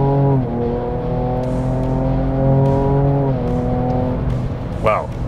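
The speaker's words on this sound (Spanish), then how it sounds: "voy a tratar de volver nuevamente el cambio para que escuchen el sonido del motor" Ford Ranger Raptor engine revving loudly and steadily, its tone dropping and rising in stepped pitch changes as the automatic gearbox is shifted, with a brief higher whine near the end.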